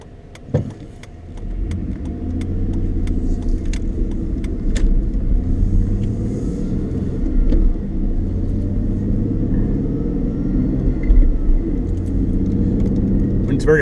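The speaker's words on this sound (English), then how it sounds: "My foot's on the gas now. And there it goes." A Dodge Nitro with a stick shift accelerates under throttle, its engine producing a steady low rumble and drone heard from inside the cabin, with a few light clicks and rattles early on and someone talking over it.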